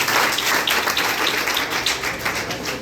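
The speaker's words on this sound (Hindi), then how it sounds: "तो तालियों से एक बार अभिनंदन कीजिए कशिश का" Applause from an audience at a school commemoration event, a dense steady wash of many hands clapping that fills the whole moment without a break.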